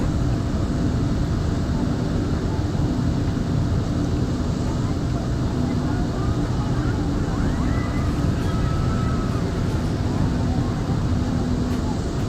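Steady, loud drone of a Dornier Do 228 twin-turboprop in X-Plane 11 during a Caribbean island-hop flight, a continuous engine and propeller hum throughout with faint tonal bands and no talking.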